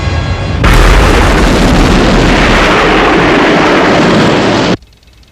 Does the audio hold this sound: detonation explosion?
yes